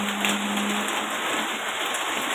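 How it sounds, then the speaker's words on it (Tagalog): Steady rain pattering down on a surface behind a house in Tondo, Manila, a continuous soft hiss with no talking. "Ulan, ulan."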